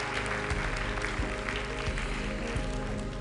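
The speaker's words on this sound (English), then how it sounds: "yes, please, you can applaud him" An audience applauds at the One Health Summit in Lyon, a continuous, loud spatter of clapping with a steady musical tone sustained underneath.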